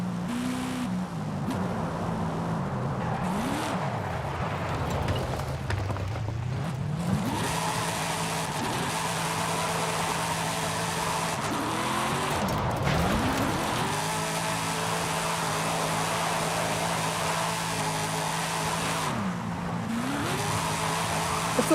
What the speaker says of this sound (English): This Hellcat's got 1050 horsepower, so it's perfect for drifting.